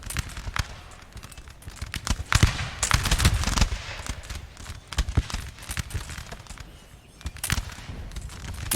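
Musket volley fire in a Napoleon Total War battle, ragged overlapping gunshots crackling continuously, with sharp individual reports popping out of the dense din.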